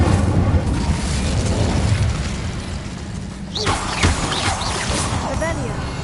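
The Incendio fire spell is cast in Hogwarts Legacy, a sudden whooshing burst of flame that flares up midway through and rings out over a dense, steady bed of game music and ambience.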